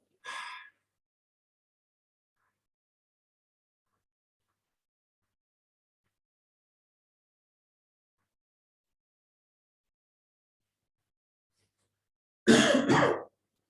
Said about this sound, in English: a breath in through your nose, then a nice forceful, loud breath out through your mouth